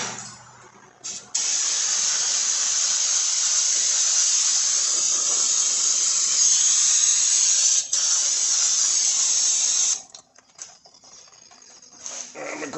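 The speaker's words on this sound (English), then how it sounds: "Let's go get the brake clean and clean that off." Brake cleaner sprays from an aerosol can onto the brake parts of a 2017 Chevy Traverse during a pad and rotor job, a loud continuous hiss lasting about eight seconds with a brief break midway, followed by faint clicks.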